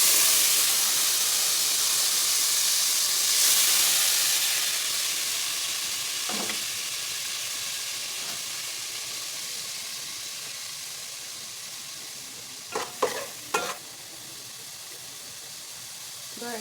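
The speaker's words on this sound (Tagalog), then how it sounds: "magigisa naman ako ngayon ng bawang, luya, sibuyas at kamatis" Garlic, ginger, onion and tomato sauté in reused frying oil, a steady close hiss and sizzle running throughout with a few brief clatters of stirring near the end.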